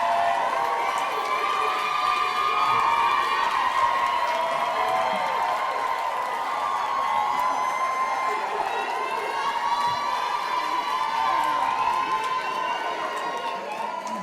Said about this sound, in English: One more big round of applause for the spring 2025 graduates of St.